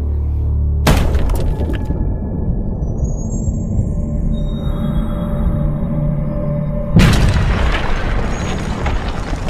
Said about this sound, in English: we can see just how much damage a heavy stone mace can inflict on the bones of a skull